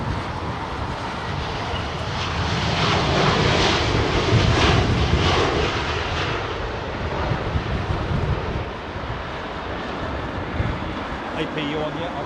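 A Thai Airways Boeing 777-300ER roars on departure from Heathrow runway 27R, a broad continuous jet rumble swelling mid-clip then easing, with wind buffeting the microphone and faint voices nearby.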